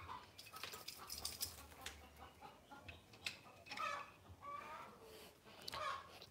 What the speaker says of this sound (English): There's a chicken laying.